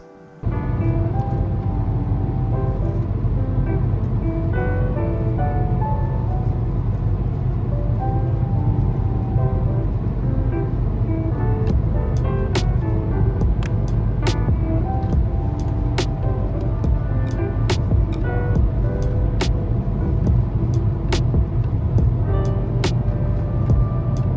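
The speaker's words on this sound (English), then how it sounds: "So now I will just get the car out for a spin and see the headlights." A car driving out for a test spin after LED light bar headlights were installed, heard as a steady, loud engine and road drone throughout, with sharp regular clicks joining in the second half.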